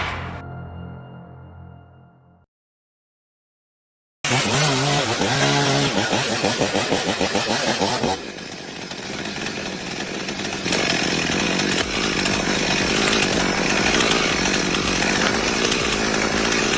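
Chainsaws cutting trees during logging, loud buzzing engine roar with revving surges, after a short stretch of music and a gap of silence, continuing steadily and close throughout.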